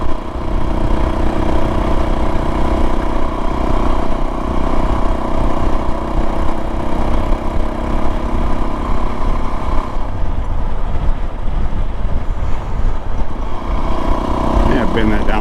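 Suzuki DRZ motorcycle fitted with an FMF PowerBomb header exhaust, a steady mid-pitched engine drone running continuously up close, with rattling clatter and some talk mixed in.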